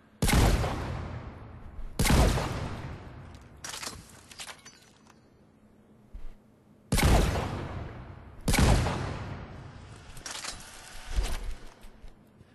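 Eviscerator shotgun firing in Mass Effect 3, a video game, on a target range: four or five loud, booming single blasts spaced a second or two apart, each with a short rolling tail, a few softer shots between them.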